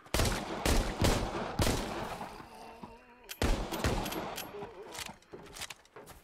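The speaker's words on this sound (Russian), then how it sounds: "Кое-как мы от них отстрелялись." Rapid bursts of gunfire from the VR shooter game Arizona Sunshine, with several loud volleys separated by short pauses and a brief quieter stretch midway before the shooting resumes.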